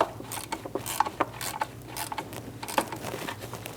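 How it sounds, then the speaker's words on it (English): A ratchet clicks in quick, uneven bursts of close metallic ticks as a 12 mm nut is snugged down to lock the timing belt pulley on a 2005-2009 Subaru Legacy engine. "Snug down the nut, locking the pulley into place."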